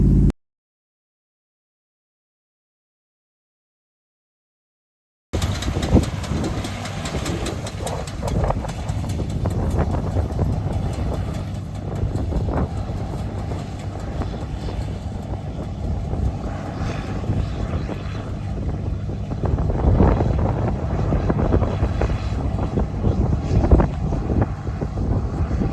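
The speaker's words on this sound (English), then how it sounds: "The clanking that you're hearing on the round baler" Steady mechanical rumble from a round baler with rattling, clanking accents, heard after a few seconds of silence, with wind buffeting the microphone throughout.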